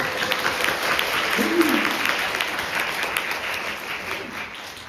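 A church congregation claps for three children during a sermon, an even wash of applause lasting a few seconds with a faint voice briefly heard beneath it.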